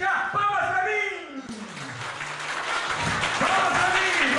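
Children's audience clapping at a clown show: a voice calls out briefly, then dense, sustained applause fills the room at steady loudness to the end.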